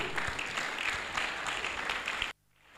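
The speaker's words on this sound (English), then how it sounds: "Put your hands together with me. I'm also clap my hands" Inside a hall at an engineers' society induction ceremony, an audience claps steadily to welcome a professor, a dense wash of hands that cuts off abruptly into near silence near the end.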